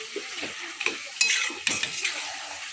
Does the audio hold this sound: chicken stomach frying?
yes